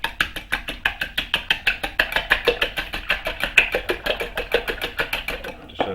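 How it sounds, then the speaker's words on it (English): Eggs with their yolks smashed are whisked in a bowl, with fast, even strokes clicking in a steady rhythm of about five per second. The strokes are close and loud, then stop at the end. "Smash your yolks in a bit and give that a nice little whisk"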